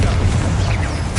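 Explosive spell blasts, Bombarda and Confringo, in the video game Hogwarts Legacy: a loud, close, booming burst that fills the brief moment.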